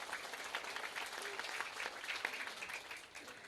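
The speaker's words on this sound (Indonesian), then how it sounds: "Kasih tepuk tangan dulu dong." Young people at an Islamic youth study gathering give brief, faint applause, a soft continuous patter of many hands heard from some distance.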